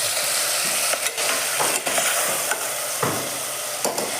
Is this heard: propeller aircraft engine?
no